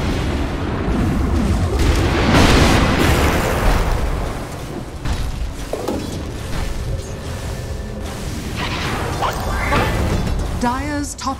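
A Dota 2 tower crumbles in a loud explosive burst with crashing debris, followed by lingering rumble and game effects amid busy match audio.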